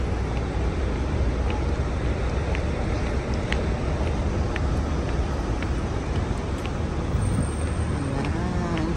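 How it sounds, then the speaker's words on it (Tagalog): Traffic on 9th Avenue in New York City hums without a break, with steady engine rumble, passing vehicles and bustling street noise close by and brief voices in the mix. "Traffic."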